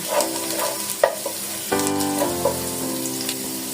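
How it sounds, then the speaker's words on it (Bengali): Cloves frying in oil sizzle steadily while a spoon stirs them with regular scraping strokes, and sharp metallic clanks from the pan ring out now and then. "কিছুক্ষণ নেড়ে একটু লাল হওয়া পর্যন্ত লবঙ্গ দিয়ে দিলাম"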